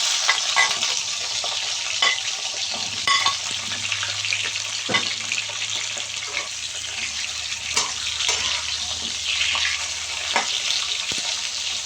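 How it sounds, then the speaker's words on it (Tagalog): Eggplant sizzles and spatters in a frying pan, a steady crackling hiss with scattered pops and occasional stirring clatter, close and moderately loud with no talking. "Susunod ko pong gagawin ay ipapry ko po yung ating eggplant."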